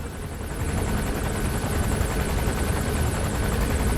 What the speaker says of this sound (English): Let's try not to get spotted by this helicopter.